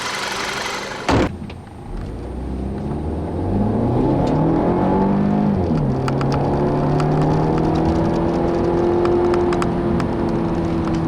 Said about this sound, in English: Let's go for a drive so you guys can see for yourself.